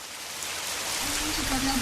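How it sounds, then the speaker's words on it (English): Steady rain soaks a farming community in Nanumba North Municipality in the Northern Region, a dense, even hiss of drops on surfaces that grows slightly louder, with a faint low tone near the end. "is soaked in rain."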